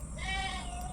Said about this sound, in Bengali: ছাগলগুলো ডাকছে